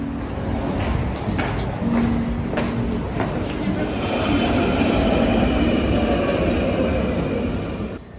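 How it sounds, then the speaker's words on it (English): A ten-coach UK passenger train runs steadily along the rails toward London Bridge, a continuous loud rumble with wheel noise and some squeal, with faint voices in the background. "This train has 10 coaches."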